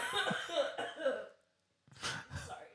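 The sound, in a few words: cough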